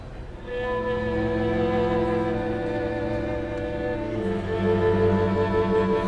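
A string orchestra bowing sul tasto, over the fingerboard, sustains soft harmony, a smooth, airy and breathy ensemble tone holding long chords without pause.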